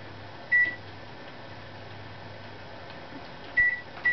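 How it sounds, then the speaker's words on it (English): A microwave oven running while melting butter, its low steady hum filling the background, with two short electronic beeps near the start and end. "So a few seconds in the microwave."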